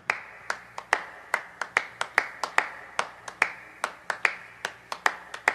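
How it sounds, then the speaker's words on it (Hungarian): At a cosplay show in Debrecen, sparse, sharp individual claps ring out in an uneven rhythm, roughly two or three per second, close and distinct against a quiet background with faint music underneath. "Fogadjátok őt törölt tapsal!"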